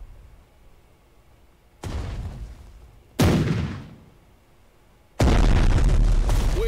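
Artillery shells firing and exploding in the Strategic Mind: Blitzkrieg strategy game, three separate loud blasts spaced apart, each one louder and heavier than the last, with no talking.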